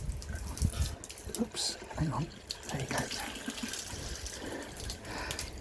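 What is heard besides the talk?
water flowing out of a plate chiller onto the floor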